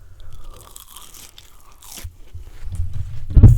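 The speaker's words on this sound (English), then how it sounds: "Listen to this crunch." Biting into crispy fried salmon, a few close crunches that build to a louder bite at the end over quiet background noise.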